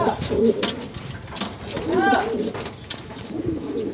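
Pigeons coo softly a few times, the low throaty calls rising and falling against a steady background hum.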